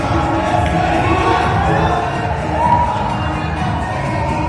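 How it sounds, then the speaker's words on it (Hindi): A large crowd cheering in a Bhojpuri film scene, a loud, dense roar of shouting voices that holds steady throughout. "देखो किस तरीके से फिल्म में भीड़ दिखाई दे रहा है।"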